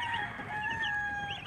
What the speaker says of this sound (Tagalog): Ito nga pala yung bagong pisa namin na sisiw.